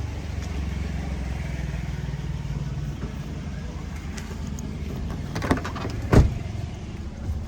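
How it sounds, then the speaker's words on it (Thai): A 2008 Toyota Altis 1.6G on a test drive gives a steady low engine and road rumble, heard from inside the car, with a couple of brief thumps near the end and some talk. "เดี๋ยวเราไปทดลองขับกันครับ"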